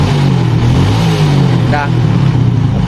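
A Yamaha Vega motorcycle engine idles loudly and steadily up close and rises into a brief rev, with a voice speaking over the rumble.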